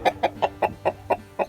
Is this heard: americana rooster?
yes